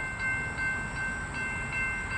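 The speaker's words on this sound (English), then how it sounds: "Warning, a train is approaching the crossing." SEPTA train 5219 approaching a grade crossing on Lower State Road, a steady broadband rumble of rail noise with continuous high tones like a crossing bell or wheel squeal, no horn blast evident.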